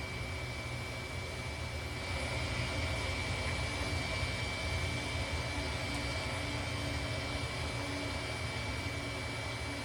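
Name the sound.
DHC-3 Otter aircraft engine during descent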